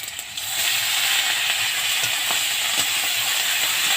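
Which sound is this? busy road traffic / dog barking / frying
frying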